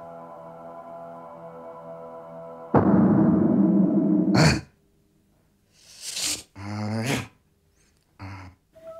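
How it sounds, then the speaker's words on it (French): A dog shakes itself off: a loud burst of flapping fur and jangling, then short rattling bursts with brief pauses between, close by and without talk. "J'aime mon chien quand il s'ébroue."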